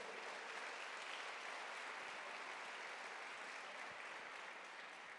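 A church congregation applauds during a Sunday worship service, a dense, steady wash of clapping from many hands that holds at an even level throughout with no voices above it.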